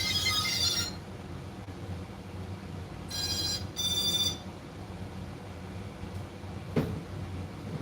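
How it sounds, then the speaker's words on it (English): A drone's lost-model buzzer beeps in short high-pitched bursts, one near the start and two more in quick succession midway, over a low room hum with no talking. "Let me turn this lost model buzzer off."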